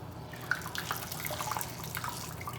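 Water trickles and splashes close by, with scattered drips and squishy wet sounds as something is rinsed under a running tap.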